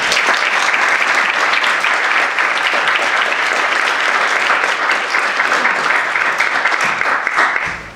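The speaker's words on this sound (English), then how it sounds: "we owe him a round of applause" An audience at Middlebury College gives a loud, sustained round of applause welcoming speaker Don Mitchell, dense and even for the full length, with no talking.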